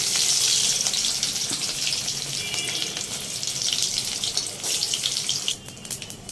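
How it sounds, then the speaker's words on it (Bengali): Boiled potatoes frying in hot oil in a home kitchen pan, giving a steady bright sizzle that holds loud and close throughout, dipping slightly near the end, with no talking. "এবার এই সেদ্ধ করা আলুগুলোকে ভেজে নেওয়া হচ্ছে"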